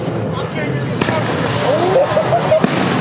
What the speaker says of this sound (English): We got fireworks out here